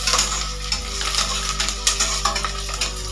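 Onions sizzle steadily in hot oil for spinach pulao, with scraping stirs and light clinks of a spoon against the pan, loud and close with no talk.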